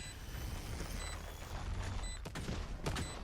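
Pistol gunfire crackles in a Valorant esports match, with rapid shots and a couple of sharper bursts near the end, mixed with in-game effects and faint beeps, all fairly quiet.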